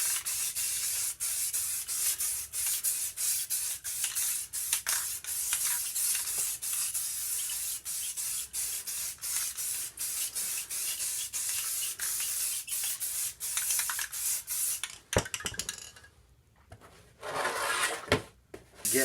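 Spray paint hisses through stencils onto a gaming table for Necromunda Warhammer terrain, in a long, close, steady spray broken by brief clicks. Near the end the spray stops and starts in short bursts.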